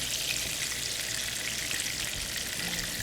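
Fish fillets fry in plenty of hot oil in a pan, a close, steady crackling sizzle that holds at an even level throughout with no talking.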